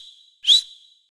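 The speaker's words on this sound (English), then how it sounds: "Sandy's mother whistles." A mother sea otter in a kelp forest gives a single short, high, rising whistle to call her pup, clear and alone against silence.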